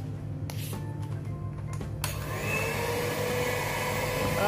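An electric mixer whirring steadily through lapis legit batter with powdered milk just added, a constant motor hum that grows fuller and brighter partway through as the beaters bite into the mixture.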